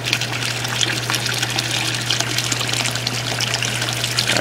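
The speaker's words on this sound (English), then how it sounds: "I'll press that button and it'll run. And here's the water." Cool water pumped by a solar geothermal cooler for a hot tub pours steadily out of a pipe in a continuous splashing stream, with a low steady pump hum underneath.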